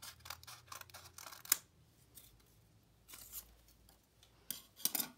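Scissors snipping through a folded paper template: a quick run of close, crisp cuts, a pause, then a few more separate snips, with soft paper rustles between them.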